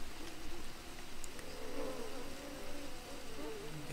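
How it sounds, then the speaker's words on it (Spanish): Flies buzz faintly and steadily in the Green Hell jungle survival video game, a soft drone that swells and fades under low ambient jungle noise. "Escucho unas moscas que me rodean."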